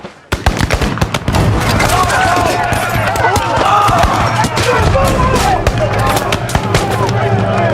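A company of soldiers opens fire in a revolt, producing a dense, loud barrage of overlapping gunshots that begins abruptly and continues without pause, with sharp cracks over a roaring blast background and shouting voices mixed in.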